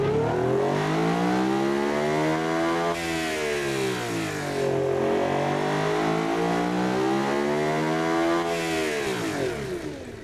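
Aluminium V12 engine in a pickup truck within the Automation car-building game, revving repeatedly through long rising and falling sweeps, loud and close, with no talk.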